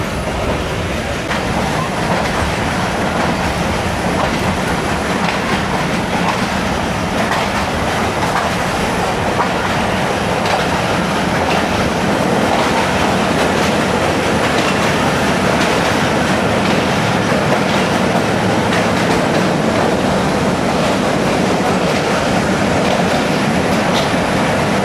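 Jand shuttle passenger train rolling through mountain valleys and tunnels, a steady loud rumble with rhythmic clickety-clack of wheels over rail joints and occasional faint squeal, continuous throughout with no talk.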